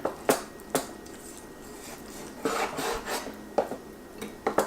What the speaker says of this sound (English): here we're gonna cut the bacon up